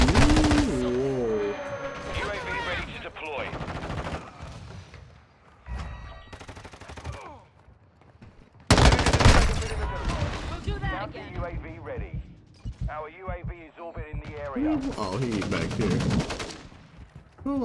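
M13B assault rifle gunfire in a video game, bursts of rapid shots mixed with loud game effects, while players talk excitedly over the action.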